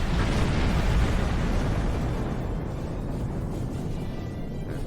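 Torpedo impacts and explosions during a Star Trek Online space battle against the Tal Shiar, a dense rumbling roar that slowly fades across the clip.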